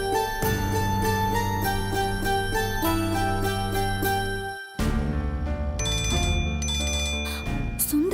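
A telephone rings with bright, repeated electronic tones while a call is placed, the pattern changing partway through, loud and close with no talking.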